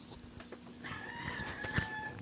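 Faint clucking from a free-range broody hen set on Rhode Island Red eggs, with short low calls and a thin tonal call from other chickens farther off, in a quiet yard.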